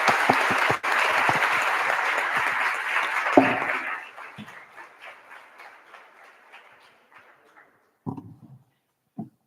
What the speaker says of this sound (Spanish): las despedimos con un aplauso